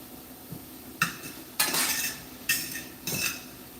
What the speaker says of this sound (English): Just really sauteing the shrimp.